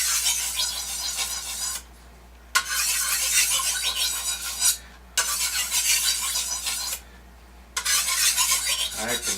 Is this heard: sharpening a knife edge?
yes